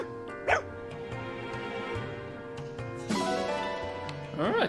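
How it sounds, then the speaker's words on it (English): A black Elysian dog in the Fire Emblem Engage video game gives a few short yipping barks, with brief whimpering calls over soft game background music. "Oh, the black Elysian dog?"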